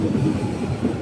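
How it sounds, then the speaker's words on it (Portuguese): Train pulling into a station platform, a steady low rumble of wheels and carriages rolling close by without a break, with no talk over it. "Chegou o trem"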